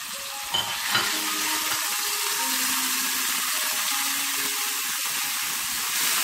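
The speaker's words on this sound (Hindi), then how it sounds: "फ्राई पैन में जस्ट 1 टेबल स्पून जितना मैं ऑयल डालकर ये मैरिनेटेड चिकन को 3 to 5 मिनट तक के लिए कुक कर लेंगे।" Marinated chicken, seasoned with ginger, garlic, vinegar, soy sauce and red chillies, fries in about a tablespoon of oil in a frying pan, making a steady close sizzle with light stirring and occasional clinks.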